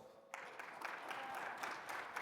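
An audience applauds students at an internship program presentation, a steady patter of clapping that begins abruptly and holds at moderate level with no talk over it.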